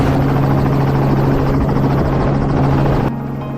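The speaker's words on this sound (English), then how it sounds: "Helicopters appeared above the most heavily affected areas to conduct aerial surveys" A helicopter flying over farmland affected by wild boars, a loud steady rotor drone with a low throbbing hum throughout, easing slightly in level near the end, with no voices.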